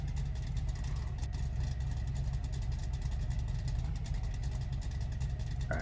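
A 1955 Chevy car engine idles steadily with a low, even rumble, loud and continuous throughout with no voices over it.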